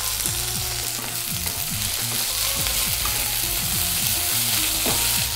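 Cut okra frying in a pan for a coconut-milk okra curry, a steady hiss broken by repeated stirring scrapes and clatters, close and continuous with no talk.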